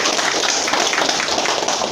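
Trainees at a farewell for a social welfare facilitator training break into dense group applause, many hands clapping close and loud in a steady, unbroken patter.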